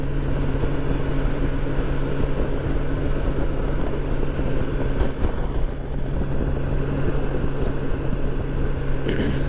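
A motorcycle ridden on a windy, gray day gives a loud, unbroken roar of rushing wind over a low engine drone that holds steady throughout.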